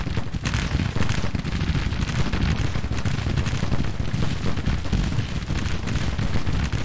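Dense, continuous battlefield gunfire from Grand Tactician: The Civil War, massed musketry and booming shots rumbling together loud and unbroken throughout.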